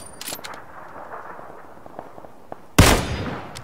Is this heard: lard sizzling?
no